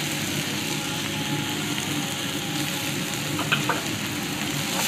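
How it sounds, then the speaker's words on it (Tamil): Chilli, capsicum and carrot frying in a pan for spicy black-eyed pea donuts, a dense, continuous sizzle with a few faint stirring clicks, close and steady. "இப்போ எல்லாத்தையும் போட்டு நல்லா ஃப்ரை பண்ணலாம்."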